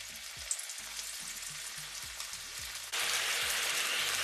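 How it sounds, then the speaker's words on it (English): Shrimp frying in a pan for Ghanaian jollof, a dense continuous hiss and crackle close up that grows louder partway through, with faint low clicks beneath and no talk. "So we leave the shrimp to fry."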